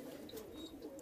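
Hyderabadi pigeons in a loft cooing softly in a short, faint burst, with a few light chirps over a low murmuring background.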